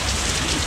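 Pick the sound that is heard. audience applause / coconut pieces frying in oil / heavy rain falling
heavy rain falling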